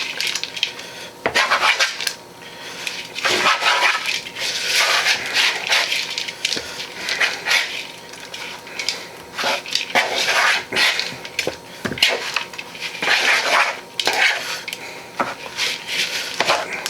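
Cheese ball ingredients for a cranberry pecan cheese ball are gently stirred together with green onions in a bowl, giving a steady run of close scraping and soft clinking from the utensil against the bowl, with no talking.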